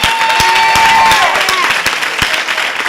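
Applause from the audience at a city council meeting, a dense wash of clapping with a few sharp hand claps standing out, steady and fairly loud across the whole stretch.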